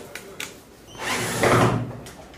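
A power driver unscrews the top cover screws of a machine, a few light taps followed by a short whirring burst of the tool, fairly close and alone.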